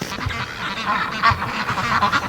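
Muscovy ducks heading home from playing in the mud give short, repeated honking calls, loud and near, several overlapping in quick succession.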